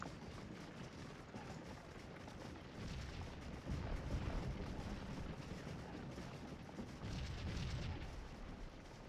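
Distant artillery fire in the Scourge of War battle game, Confederate cavalry under J.E.B. Stuart facing Custer, heard as a steady rumbling wash of booms with louder swells around the middle and near the end, with no voices.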